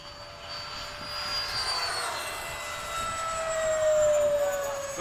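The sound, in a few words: RC FMS F/A-18 model jet flying overhead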